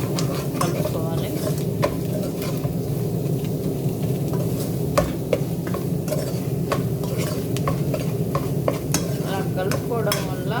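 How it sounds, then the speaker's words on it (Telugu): Masala being stirred into jackfruit curry in an oiled pan: a continuous sizzle with repeated close spoon scrapes and clicks against the pan, steady throughout. "ఇలా బాగా కలుపుకోవాలి"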